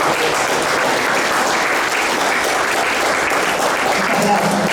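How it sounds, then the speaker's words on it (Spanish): Audience applause at a graphic narrators' gathering, dense sustained clapping that stays loud and even for several seconds, with no speech over it. "Un aplauso, por favor."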